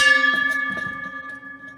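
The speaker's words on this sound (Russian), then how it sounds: "Смотрите, колокол." A bell rings with a clear, sustained metallic tone that hums steadily and slowly fades, with faint knocks underneath.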